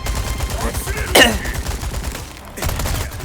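Gunfire in the Resident Evil 4 Remake video game: a sharp, loud shot stands out amid rapid crackling bursts, with a second burst near the end and faint voices underneath.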